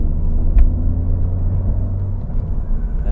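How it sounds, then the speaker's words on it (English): Heavy dump trucks rolling past on a road, a steady low engine rumble and drone that holds through the moment, with a brief sharp knock early on and no talking. "It's like a parade of dump trucks."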